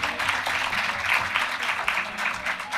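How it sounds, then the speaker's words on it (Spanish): Audience applause at a university session on Saint Teresa, a steady wash of many hands clapping at moderate level for a few seconds. "Sentíos tranquilamente para aplaudir, si os apetece."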